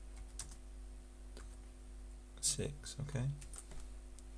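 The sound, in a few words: typing on a computer keyboard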